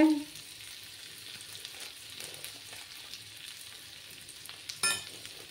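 Spiced potato masala, dhaba style, fries in a pan with a quiet, steady sizzle and a brief utensil clatter near the end.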